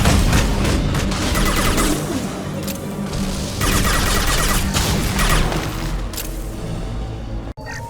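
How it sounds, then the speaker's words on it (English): Video game gunfire rattles in dense, continuous bursts of rapid shots and crashing impacts, loud and close, then cuts off near the end. "Gunfire."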